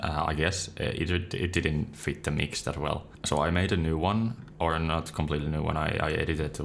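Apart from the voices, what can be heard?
No everyday noise stands out behind the speech.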